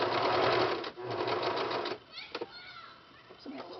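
A sewing machine stitches fabric in two fast whirring bursts, each about a second long, followed by quieter pauses with someone speaking softly nearby.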